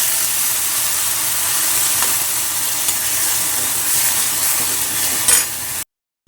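Cooked red radish vegetable is added to a pan and stirred, giving a steady sizzling hiss with light scraping throughout, close and fairly loud, then it abruptly cuts to silence.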